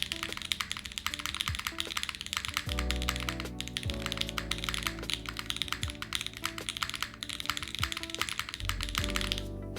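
Rapid, steady typing on an Envoy mechanical keyboard, with dense clacking keystrokes close to the mic throughout and faint tonal background sound underneath.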